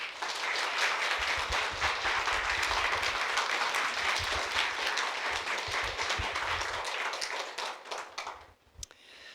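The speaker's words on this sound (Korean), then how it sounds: "우리 선교사님 나올 때에 큰 박수로 환영하며 맞이하도록" Sustained, loud applause from a church congregation welcoming missionaries, steady dense clapping for about eight seconds before fading out with a few last claps.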